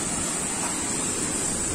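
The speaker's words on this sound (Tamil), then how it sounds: "அதனால இங்கே நல்லாவே தண்ணி வந்துகிட்டு இருக்கு." Rain-fed stream of overflow water from Gomukhi lake in the Javadhu Hills, a steady close rushing of flowing water with a broad hiss and no pauses.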